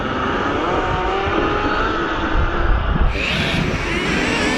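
Losi RC cars in a short outdoor drag race, stock apart from the motor: a loud, steady high electric whine passing close, with a brief shift in pitch near the end and no talking.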